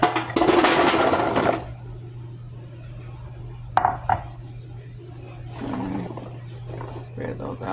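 Potatoes dropped and spread in a pan with loud clattering at first, then scattered knocks and scrapes over a steady low hum, with a person talking in between.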